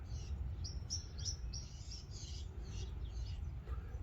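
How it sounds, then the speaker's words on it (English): Many small birds chirp and tweet in quick repeated bursts, fairly close, over a steady low rumble of background noise, with no talking. "Beautiful birds."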